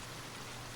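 Steady rain falls without a break, an even, dense hiss that fills the short clip.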